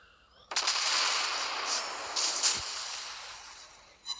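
Heavy gunfire strikes a warship in a naval battle game: a sudden burst opens a dense, sustained rattle of hits and crackling impacts with a few sharper blasts, loud and close, fading slightly toward the end.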